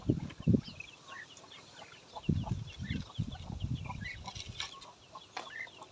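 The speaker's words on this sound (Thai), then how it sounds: "นี่ครับ เป็ดมีสิบสองตัวครับ" Muscovy ducks being fed vegetables make soft, low clucking and muttering calls in irregular clusters, close by, with faint pecking and rustling throughout.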